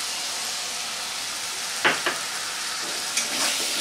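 Tomato paste fries in a pan and is stirred into an aloo soybean curry, a steady hiss and sizzle with a few sharp scraping strokes of the spoon, close and alone with no talk.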